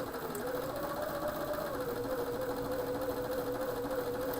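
A sewing machine hums in an even, steady whir as it stitches quilt pieces for a shoofly block, running continuously without pause at a moderate, close level.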